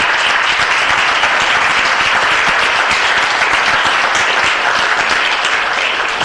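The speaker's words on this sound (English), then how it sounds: "Let's give them a round of applause" Audience applause at a city council meeting fills the room, steady and loud dense clapping from many people that holds throughout without a break.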